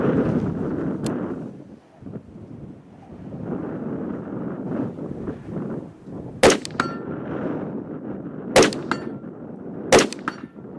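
Rifle shots ring off a steel E-type target 100 yards away, three distant metallic clangs spaced a couple of seconds apart over gusty wind noise outdoors.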